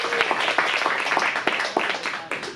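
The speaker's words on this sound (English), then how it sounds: "give yourselves a round of applause" An adult improv class in an acting studio gives itself a round of applause: a brisk, dense patter of many hands clapping close by for a couple of seconds, with a few voices mixed in.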